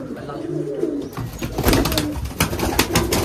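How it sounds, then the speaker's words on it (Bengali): Giribaj pigeons coo inside an enclosed room, a soft low cooing running steadily under a burst of brighter flutter and scuffling noises that grow louder toward the end. "মাশাআল্লাহ, অনেক সুন্দর কবুতর"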